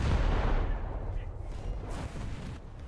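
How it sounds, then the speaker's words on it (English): A naval gun salvo from the cruiser USS Newport News in War Thunder: one heavy, booming blast at the start that rumbles and fades over a few seconds, with faint talk in the background. "that was a good salvo"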